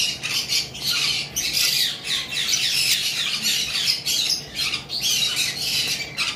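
Violet masked lovebirds squawk nearly nonstop at close range, with harsh overlapping calls from several birds and no voices.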